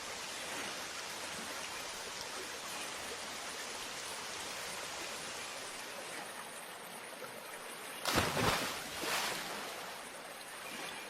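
Steady rain hiss fills the whole stretch, a continuous wash of falling water that swells briefly louder near the end with a couple of heavier gusts.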